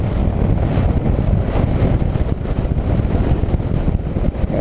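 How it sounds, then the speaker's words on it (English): Heavy wind buffets a Suzuki V-Strom motorcycle and the microphone while riding, a loud continuous broadband roar with low rumble that fills the whole stretch, no voices over it. "it's not that windy, and the bike is just bad in the wind"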